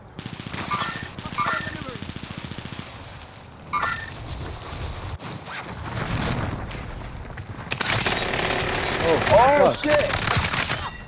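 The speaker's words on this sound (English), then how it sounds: "Oh, dude, they're shooting Grant!" Rapid automatic gunfire in the Warzone video game, several bursts of sharp rattling shots with brief pauses between them, mixed with footsteps and players talking excitedly over the action.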